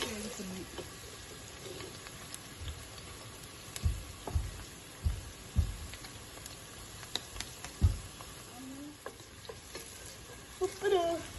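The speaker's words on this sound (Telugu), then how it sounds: "ఇప్పుడు మనము తాలింపు ఆయిల్లో ఉల్లిపాయ వేస్తాము." Onions go into hot tempering oil for a spinach, mango and dal curry, giving a soft steady sizzle broken by several sharp stirring scrapes and pops from a spoon against the pan, close and fairly quiet.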